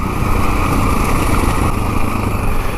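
A motorcycle on a long downhill descent, engine braking with no rear brake, gives a steady, loud, buzzing engine drone with a rough low rumble that holds level throughout.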